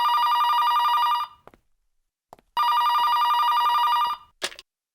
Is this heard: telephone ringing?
yes